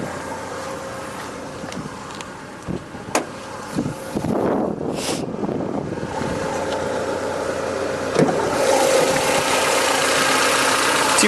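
1992 Honda Accord LX with the F22A1 2.2-liter inline-4 idling, a steady low rumble close by with a few clicks and a brief rustle partway through, swelling slightly louder toward the end.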